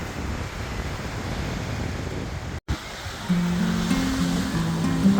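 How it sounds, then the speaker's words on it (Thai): Steady roaring surf and wind rush throughout at Jomtien Beach, Thailand, with a brief dropout midway and a faint tonal hum joining later. "น้ำทะเลคลื่นแรงมาก"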